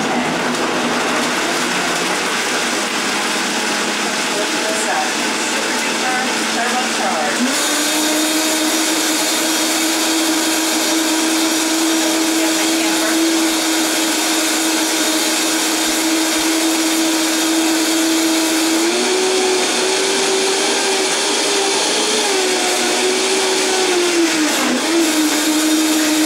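A variable-speed blender whirs through a coconut green smoothie, its loud steady motor whine stepping up in pitch twice as the speed is raised, running alone without voices.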